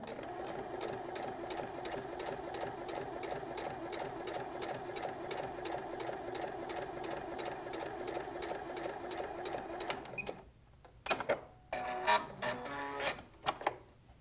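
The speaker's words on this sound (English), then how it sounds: "Once you're set, start sewing." A sewing machine with a quarter-inch foot stitches through layered quilting fabric in a steady, close, continuous whir, then stops and gives way to a few short stops and starts.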